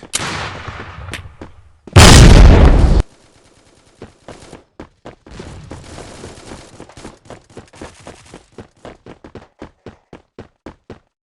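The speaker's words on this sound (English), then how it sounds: "Throwing a grenade! Grenade! Throwing a grenade!" Grenade explosion in the shooter game Forward Assault, a single loud, close burst lasting about a second, followed by rapid bursts of gunfire and sharp clicking shots.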